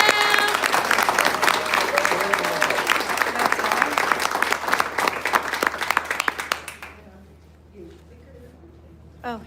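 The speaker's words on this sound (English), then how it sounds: "Applause for Martha Taylor." Audience applause at Eagle Fest, dense clapping from a crowd sustained for several seconds before fading abruptly to near silence, with faint voices and room sounds remaining.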